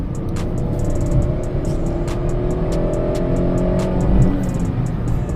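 A Tata Altroz i-Turbo turbo-petrol hatchback accelerates hard from inside the cabin, its engine drone steadily climbing toward high revs with a loud, continuous rumble and a rising pitch, without any talking.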